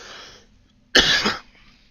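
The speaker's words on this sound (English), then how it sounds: "I feel a little scratch in my throat. I think I'm going to cough." A single sharp, loud cough up close, preceded by a brief trail of faint noise and followed by quiet.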